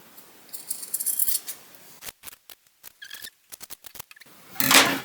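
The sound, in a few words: scissors cutting off excess fabric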